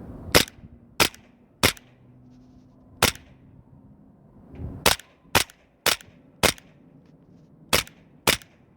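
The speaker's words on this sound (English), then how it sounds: "now let me do some rapid firing" An airsoft handgun fires BBs in sharp, dry cracks, eleven shots in all, some spaced and some in quick pairs, close and clear against a quiet background.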